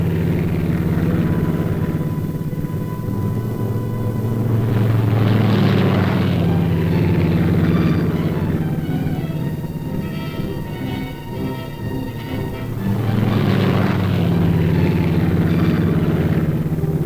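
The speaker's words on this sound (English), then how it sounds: "Mission accomplished, the planes headed back to their base at Thule." Propeller airplanes drone overhead after a supply airdrop above the Greenland ice cap, a steady loud engine hum swelling and receding as aircraft pass, with no talking.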